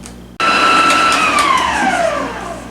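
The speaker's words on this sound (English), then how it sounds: "beat the butter and 1 cup of sugar until pale and fluffy, and it's going to take about 3 minutes" An electric mixer starts abruptly and whirs loudly and steadily as it beats butter with a cup of sugar, its whining pitch slowly dropping as the mixture thickens.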